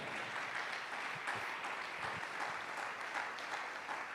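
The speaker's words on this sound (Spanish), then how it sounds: "Dale un fuerte aplauso al Señor en su casa" A church congregation clapping during a sermon, a dense continuous wash of applause at moderate distance, steady throughout with a few sharper claps near the front.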